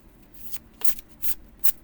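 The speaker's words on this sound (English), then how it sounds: "Or you can just do an overhand shuffle." A deck of oracle cards being overhand shuffled by hand, with three quick crisp riffling bursts in close succession, near and fairly quiet.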